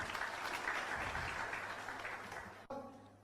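An audience at a motivational success seminar breaks into loud, sustained applause that gradually tapers off, ending with an abrupt cut and a faint trailing tone.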